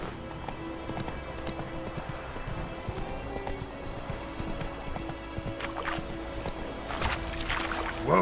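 Hooves of the horse Roach clip-clopping in The Witcher 3, a quick galloping beat of sharp strikes under steady game ambience and faint music.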